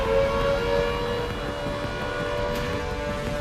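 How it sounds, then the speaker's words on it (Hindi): Civil defense sirens wail steadily across Lahore in the aftermath of explosions near Walton Airport, a continuous droning tone over dense, broad outdoor noise, with no pauses and nobody talking. "धमाके की आवाज के बाद से यहां लगातार सायरन बजते रहे।"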